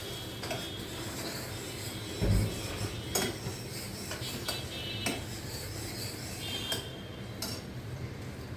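Tomatoes, onions and puree being stirred together in a pan for a whole moong dal dish, with a steady close scraping and rubbing of a utensil, a few sharper knocks and clinks, quiet and without talk.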